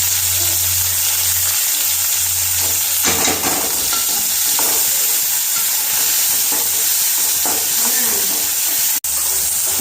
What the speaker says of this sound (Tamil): தக்காளி போட்டிருக்கேன். நல்லா வதங்க கொஞ்சம் உப்பு போட்டு